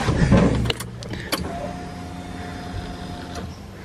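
Subaru WRX engine cranking over and catching, then settling into a rough, uneven idle with a steady low rumble and faint whine, close up with no talk.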